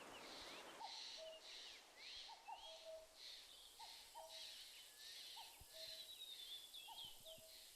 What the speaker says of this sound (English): Bit like spring, isn't it, with the cuckoos in the background?